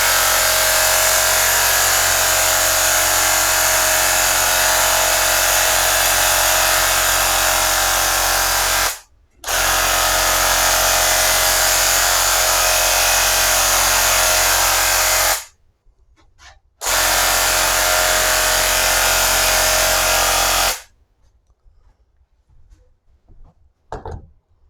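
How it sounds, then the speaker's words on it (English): A Bauer 20V cordless paint sprayer whirs steadily and loudly while laying paint on baseboard, in three long continuous bursts with brief stops between, then falls quiet. "So it's laying down the paint quite well."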